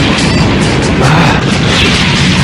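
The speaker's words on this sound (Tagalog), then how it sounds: "Mga paputok lang yan ni Reka!" Firecrackers burst in an animated ninja cartoon, a dense, loud barrage of crackling pops and bangs filling the whole stretch with no pause.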